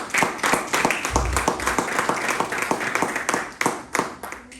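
A church congregation claps in a rapid, steady rhythm, many hands close together forming a continuous wave of clapping that barely pauses.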